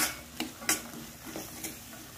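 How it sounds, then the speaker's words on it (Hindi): Peas and capsicum being stirred in a cooking pan, with a few distinct scraping clacks of a spoon against the pan over a soft, steady sizzle, close and without talk. "तो मैं इसी समय मटर भी डाल देती हूँ और मिक्स कर लेंगे"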